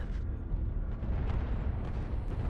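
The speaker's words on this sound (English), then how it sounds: "Tank strike protocol active." A tank strike explosion rumbles as a loud, continuous low roar with crackling debris. The deep blast wash stays steady for a couple of seconds with no voices over it.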